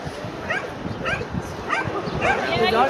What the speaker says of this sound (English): The second dog that went by here barking.